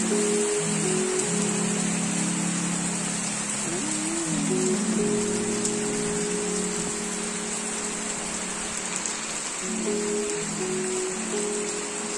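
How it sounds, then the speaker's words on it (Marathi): Steady rain pours down in an even, continuous hiss over a low background hum, moderately faint and unbroken, with no talking. "आज पाऊस 1 वाजता खूप छान पडला"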